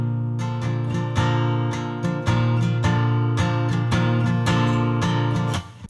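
A single acoustic-style guitar track plays strummed chords, centered and not double tracked, with a steady rhythm of strokes, close and clear with no voices.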